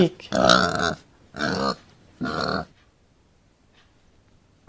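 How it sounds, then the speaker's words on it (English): A pig gives three loud, rough grunts in a steady rhythm, followed by near silence. "pig,"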